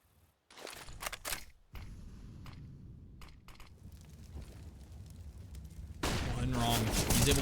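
Counter-Strike gunfire comes as short bursts and sprays of shots, some spaced, some rapid, fairly close, with a denser, louder burst near the end.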